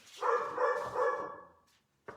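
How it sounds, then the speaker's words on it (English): One dog lets out a drawn-out, whining bark-like vocalization up close, followed by a short, sharp yip after a brief pause. "He only barks when he wants food."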